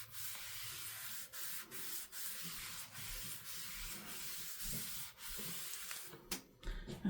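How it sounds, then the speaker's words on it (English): A hand rubs glued paper flat in a handmade junk journal, pressing out the glue underneath. Soft, steady papery swishes follow one another in even strokes, close but faint, with a few sharper rubs near the end and no talking. "So I'm smoothing out the glue underneath here."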